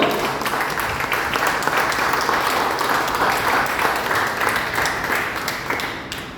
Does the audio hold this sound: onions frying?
no